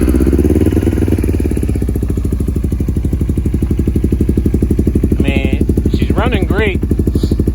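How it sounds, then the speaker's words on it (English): A budget-build motorcycle, started cold, settles into a loud, close, rapid, even idle thump, with a brief voice near the end. "But we'll throw you a cold start just for the hell of it."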